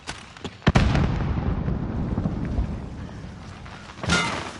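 A grenade goes off in a first-person shooter game, a sharp blast followed by a long rumbling roll of debris and a second burst near the end, loud and close with no talk.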